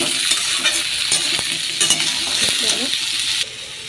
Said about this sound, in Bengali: তবে হালকা হালকা করে বেশ মাখা মাখা করে তরকারিটা করবো আমি